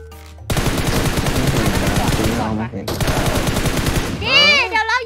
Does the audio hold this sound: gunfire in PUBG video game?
yes